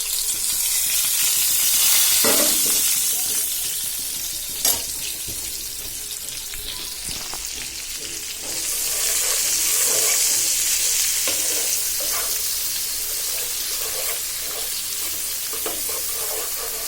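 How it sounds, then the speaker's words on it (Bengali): Onion, garlic, green chili and tomato hit hot oil left from frying bata fish, producing a loud sizzling hiss with scraping stirs and occasional sharp pops, surging again in a second wave. "এবার আমি ওই তেলে পেঁয়াজ, রসুন, কাঁচামরিচ আর টমেটো দিয়ে দিব।"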